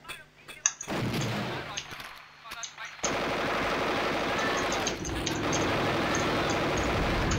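Sustained automatic gunfire in the Duke Nukem 3D Platoon total conversion, with a few scattered shots first and then a dense continuous burst, loud and unbroken.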